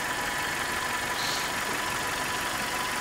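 A 1996 Toyota Corolla with a 1.6L 4A-FE engine and automatic transmission idles steadily after a cold start, with a constant hum and faint whirring, no speech.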